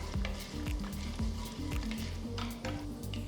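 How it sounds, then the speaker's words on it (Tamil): Mustard seeds and whole spices (cinnamon, cloves, cardamom, kalpasi) crackle and sizzle steadily in hot oil, with a continuous frying hiss and scattered sharp pops, close and fairly loud, no voices. "கடுகு பொரிய ஆரம்பிச்சிருச்சு."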